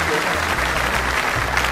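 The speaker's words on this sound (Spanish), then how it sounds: "den un aplauso grandioso si quiere esa revelación en su vida" Church congregation applauding during a Spanish-language sermon, a dense wash of clapping that stays loud and steady through the short stretch, with voices mixed in.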